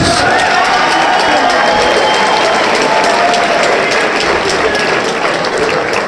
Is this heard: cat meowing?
no